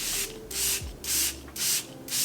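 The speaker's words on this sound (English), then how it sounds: "I give this a good shake, and I just like to spray my face down." A Kosas collagen serum spray mists onto a face in four or five quick rhythmic pumps, each a short breathy hiss close to the mic, with faint handling noise between bursts.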